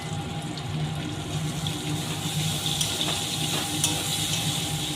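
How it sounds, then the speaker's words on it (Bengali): Finely chopped onion going into hot oil with lightly crushed cardamom, cloves and cinnamon, giving a steady close sizzle and hiss that runs throughout without talk. "মিহি করে পেঁয়াজ কেটে রেখেছি তেলের মধ্যে দিয়ে দিচ্ছি"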